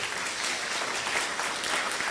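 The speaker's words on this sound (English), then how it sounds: "Give Tricia a round of applause." Audience applause for Tricia at a concert, a steady wash of clapping that holds at an even, fairly loud level throughout with no voices on top.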